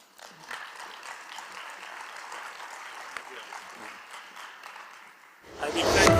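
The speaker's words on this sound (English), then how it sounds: "this is your applause" Applause from a forum audience for a panel of speakers, a moderate even patter of clapping that holds steady before a louder burst of noise at the end.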